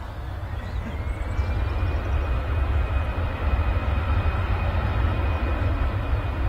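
An Aer Lingus Airbus A320 airliner rumbles through its takeoff roll at Manchester Airport, a steady, distant low roar with a thin engine whine held above it, no talk.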